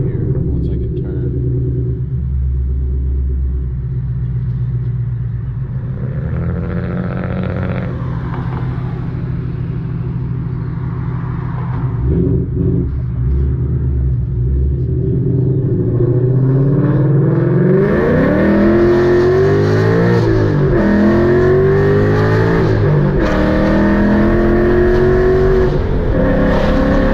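A 2020 Mustang fitted with Texas Speed headers roars close by, its deep rumbling exhaust climbing through hard wide-open-throttle acceleration into a loud rising howl, with a voice audible beneath.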